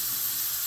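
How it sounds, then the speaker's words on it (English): Water rinses out a water filter housing in a kitchen with a short, steady hiss of running water, continuous and fairly close. "I'm going to rinse this out."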